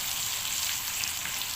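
Onions fry in a pan for Egyptian bessara, giving a steady, close sizzle with fine crackling and no voices.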